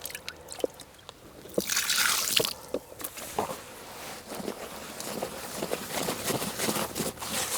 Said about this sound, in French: Donc je vais remettre de l'eau.